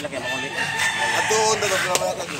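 A white rooster crows at a rooster market in Consolacion, north Cebu, its call rising clearly above steady background chatter and other fowl, with someone talking nearby.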